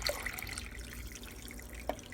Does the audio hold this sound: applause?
no